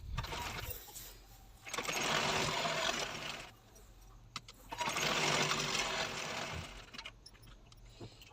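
A sewing machine stitches a designer blouse with a front and back neck design, running in two long sustained bursts with a brief pause between them and quiet moments at the start and end.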